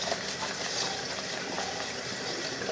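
Water running steadily from a tap while an item is washed in a kitchen, a continuous close rushing hiss with small splashes and no break, fairly quiet.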